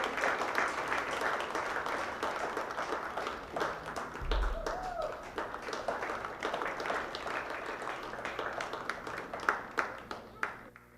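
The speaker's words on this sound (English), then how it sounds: "I hope you'll give them a big round of applause as they deserve it." Audience clapping at a Brown Swiss livestock judging show honoring junior champion heifers, a steady crowd applause with a sharper few claps near the end, with some voices mixed underneath.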